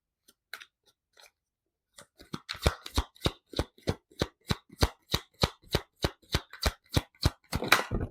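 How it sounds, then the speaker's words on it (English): Tarot cards drawn and handled during a coffee cup and tarot reading, after a quiet start a steady run of crisp, close card snaps and flicks repeating about twice a second, with a louder shuffle at the end. "I'd like to take some cards from this as well."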